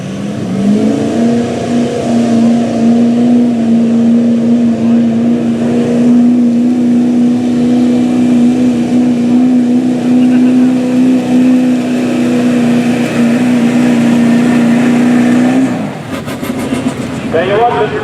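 A diesel truck engine at a tractor pull drones loudly and steadily at high revs for about fifteen seconds before dropping off, with voices heard.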